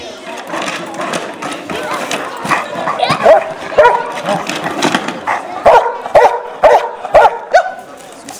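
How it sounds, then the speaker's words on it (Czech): Dogs bark and yip during a sport cynology demonstration of drug searching and attacker takedown, loud, close bursts of barking, rising to repeated sharp barks toward the end, with crowd noise and voices around them. "Předvedl jim totiž, jak psi vyhledávají drogy či zneškodňují útočníka."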